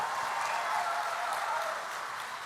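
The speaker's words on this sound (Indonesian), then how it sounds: "Kita berikan tepuk tangan untuk Bapak Presiden." Crowd applause for the President at the GAMKI inauguration ceremony, a dense steady clapping wash from a large audience that holds evenly and eases slightly toward the end.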